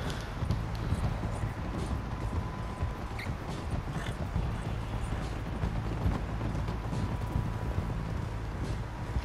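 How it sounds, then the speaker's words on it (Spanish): Horse hooves clip-clop continuously in Red Dead Redemption 2 as several riders gallop together during a heist in Saint Denis, loud and close with creaking tack and a busy background. "el tanque de caballo del Bill es brutal"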